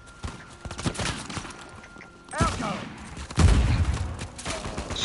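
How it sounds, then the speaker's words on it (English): Gunfire in an Uncharted 4 online multiplayer match: scattered shots and bursts crackle through the mix, with a heavier blast near the end, while players talk over it. "Shots coming from the middle right here."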